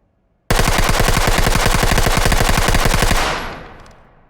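An MP5 submachine gun in the tactical shooter game Ready or Not fires a loud, close burst of full-auto shots lasting about three seconds, a rapid even rattle that stops abruptly and leaves a fading echo tail.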